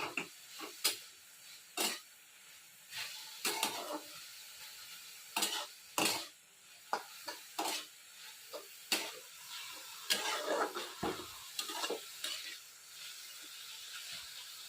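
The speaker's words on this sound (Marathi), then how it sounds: "यामध्ये चवीनुसार मीठ घालायचे परतून घ्यायचं" Vegetables sautéed with salt in a pan, a series of distinct scraping stirs and spoon taps in an irregular rhythm over a faint sizzle, close and moderate in level, with no one speaking.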